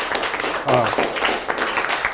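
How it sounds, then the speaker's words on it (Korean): A lecture audience of high-school students at a Korean public science talk on biotechnology claps after a correct answer, a brief scattered patter of hands with a short murmur of voices near the start. "박수"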